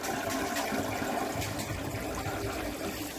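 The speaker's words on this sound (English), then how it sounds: "Water out the returns, which will raise the level of the tank." Water from a freshwater aquarium sump pump splashes and rushes back into the tank through the return plumbing, a steady, close gurgling flow with no talk.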